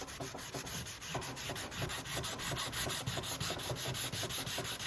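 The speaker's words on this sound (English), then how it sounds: "taking the finish off and thinning out the edge, feathering it in somewhat" Sanding the old finish off the edge of a Ceconite fabric patch on an aircraft wing, with rapid rhythmic rasping strokes that run steadily and close, no voices.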